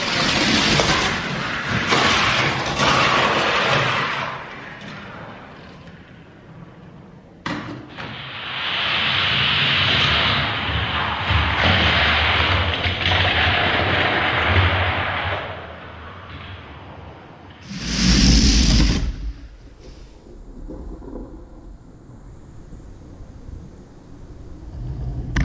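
Hot Wheels diecast Mustang and Chevelle race on a Fat Track with a whirlpool: loud plastic rolling rumble and whirring, rising and falling in runs, with a sharp burst near the end.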